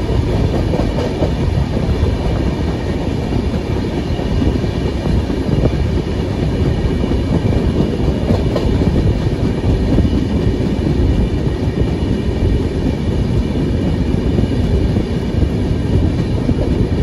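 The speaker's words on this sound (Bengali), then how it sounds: "8:04 মিনিটে স্টেশন থেকে রওনা দেয় এই ট্রেন" Saraighat Express (12346, Guwahati to Howrah) pulling out of a station, a steady loud rumble of rolling wheels and carriage noise with faint clickety-clack, continuous throughout and close by.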